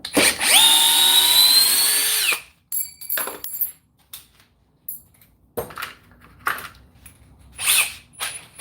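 A cordless power drill whirs loudly for about two seconds, backing out a big screw, then falls silent, followed by scattered clicks, knocks and handling noises nearby.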